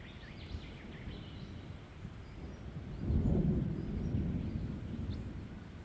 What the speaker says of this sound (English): Change is coming in, thunder's rolling, it's just starting to sprinkle